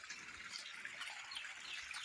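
A forest stream flows steadily, a faint, even wash of running water heard from a short distance throughout, with no voices.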